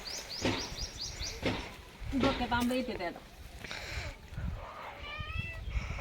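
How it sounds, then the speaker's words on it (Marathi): A peacock calls in a village vegetable garden with a few faint, wailing cries in the background while people talk nearby. "अगं मोर लागला. लागला का?"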